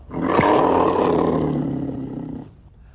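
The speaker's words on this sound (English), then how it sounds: "this Virago 1100 has that classic hot rod look and the cruiser roar" A Yamaha Virago 1100 cruiser motorcycle with dual chrome exhaust pipes lets out one loud, close, sustained roar that holds steady for about two seconds and then drops away.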